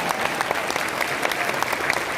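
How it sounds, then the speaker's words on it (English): Audience applause for a senator at a CPAC-linked vigil, a dense, steady patter of many hands clapping at once, sustained at moderate loudness for the whole stretch with no talk over it. "Everybody give the senator a big round of applause."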